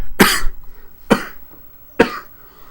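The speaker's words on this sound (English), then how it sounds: "I'm going to be coughing a lot." A person coughs three times, close and loud, during gaming commentary for Dawn of War: Soulstorm. Each cough is a sharp single burst, spaced about a second apart, with no speech between them.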